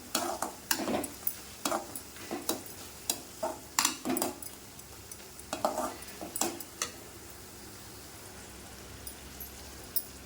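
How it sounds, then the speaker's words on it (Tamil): A spoon stirs and scrapes cumin seeds and turmeric around a pan in irregular strokes while oil sizzles softly underneath, close by and fairly quiet. "சீரகம் மஞ்சத்தூளையும் போட்டு ரெண்டு பெரட்டு பெரட்டி விட்டுலாம்"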